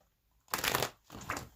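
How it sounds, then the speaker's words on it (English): A deck of tarot cards being shuffled, two quick riffling bursts close up with a short pause between them, otherwise quiet. "So let's get another deck and just see if there's any cards of advice for the two of you."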